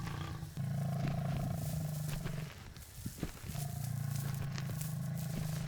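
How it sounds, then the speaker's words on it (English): Lions from a young male coalition roar near a buffalo herd, a deep, sustained droning roar that breaks off midway and then resumes, loud and close, with rumbling and crackling underneath. "The first roar of the young alliance came from the edge of the buffalo herd"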